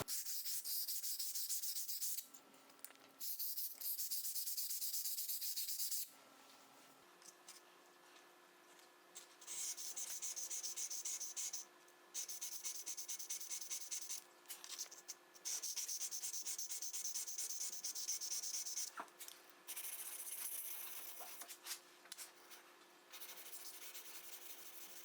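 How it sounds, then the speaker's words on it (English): A cabinet scraper's flat back is rubbed against a fine sharpening stone, giving a steady, close, hissing scrape that runs in long passes with a few short pauses between strokes. "we want to polish the back side before moving on to our next level of sharpening stone"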